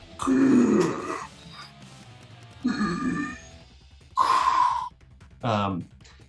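A voice makes a series of heavy, strained breathing sounds, four rasping bursts with pauses between, imitating a character's labored breathing through armor.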